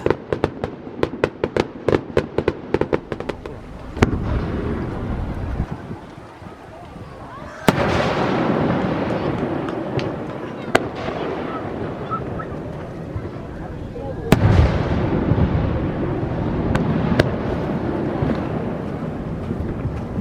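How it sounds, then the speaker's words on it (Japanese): Rapid crackling fireworks pop in quick succession over Lake Saiko near Mount Fuji, then heavier booms roll and echo off the surrounding mountains with long reverberant tails, wind noise and voices underneath. "花火のエコーする反響音が特徴的だ"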